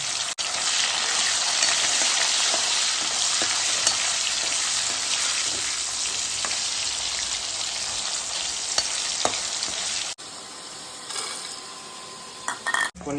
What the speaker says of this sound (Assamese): মই এতিয়া পনীৰখিনি ধুনীয়াকৈ ফ্ৰাই কৰিম